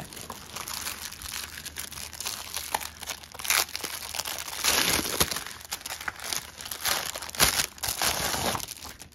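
Plastic packaging for a Disney cross-stitch magazine issue being opened, with steady crinkling and rustling and a few sharper tearing crackles, close and continuous with no talking.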